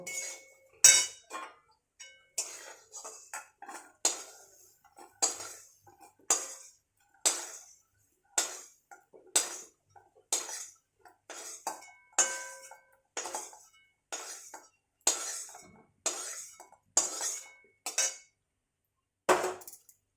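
Utensils scrape and clink against a pan as fried Sita eggplant is lifted out, with sharp metallic taps that repeat in a steady rhythm and no talking.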